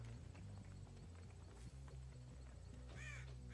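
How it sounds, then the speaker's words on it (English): Crows startled into flight and cawing in the Dead by Daylight horror game, a short burst of harsh calls rising briefly over steady game background music and ambience. "Birds."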